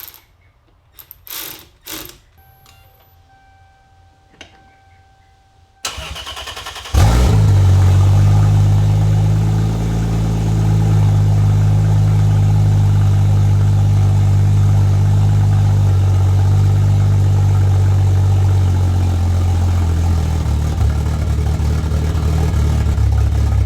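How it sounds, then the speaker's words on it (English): Toyota Supra Mk4 turbo engine cranks with ratcheting starter clicks, then fires and settles into a loud, steady, droning idle with no exhaust fitted, close by and alone. "Okay, it is time to try and start this car."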